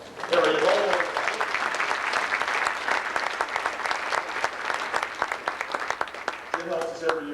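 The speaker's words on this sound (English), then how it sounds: "Let's give you a round of applause" A crowd applauds at a holiday basketball tournament, a dense, steady wash of clapping that holds for several seconds, with brief voices speaking over it at the start and end.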